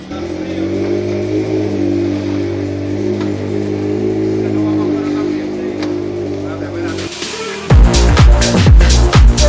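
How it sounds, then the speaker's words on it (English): A car engine idles with a deep, even exhaust drone, then revs sharply several times in quick bursts, loud and close. "You hear that difference in the muffler?"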